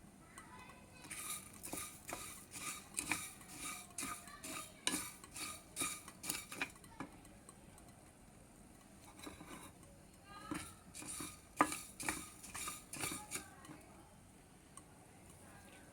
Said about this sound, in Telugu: డ్రై రోస్ట్ చేసుకోవాలండి ఇది.